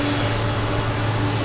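A Boeing 747 Dreamlifter taking off from Paine Field gives a steady, loud jet engine roar with a continuous low rumble and no pauses.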